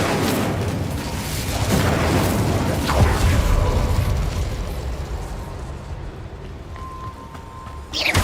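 An Incendio fire spell cast in Hogwarts Legacy, a deep booming whoosh of flame swelling and then rumbling away into a fading roar.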